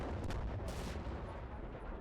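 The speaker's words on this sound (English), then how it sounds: "the anti-aircraft, or anti-aircraft vehicle responded with a flurry of shells" An anti-aircraft vehicle in the video game Combat Mission: Cold War fires a dense flurry of shells, a continuous rumbling barrage with a few sharper bursts, loud and close.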